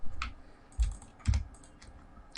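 A computer keyboard clicks under bursts of typing as code is written, a few close, irregular keystrokes with short gaps.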